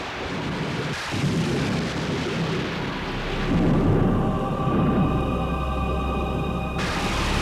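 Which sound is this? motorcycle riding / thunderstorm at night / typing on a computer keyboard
thunderstorm at night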